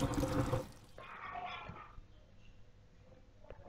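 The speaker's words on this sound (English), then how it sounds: "Let the water out." Rinse water drains from a sink after hand washing Gotland wool, a gurgling, splashy rush at first that fades to faint trickling and a few drips, with no talking.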